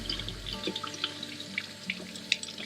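A fishing reel is rinsed under a running tap to wash out sand, with a soft steady water flow and scattered light splashes and drips as the reel is turned, quiet and close, with no talking.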